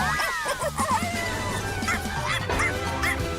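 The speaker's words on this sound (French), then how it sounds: "On a secouru un autre petit chien." Cartoon puppy whimpering and yipping in an animated rescue show, a series of high, wavering whines and short yips over a low musical background, close and fairly loud.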